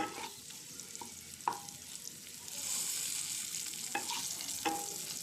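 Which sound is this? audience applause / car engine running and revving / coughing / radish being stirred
radish being stirred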